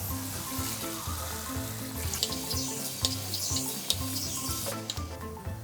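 Cold water runs from a kitchen tap into a container, a steady close rushing spatter with light clinks and rubbing sounds on top, and no talking.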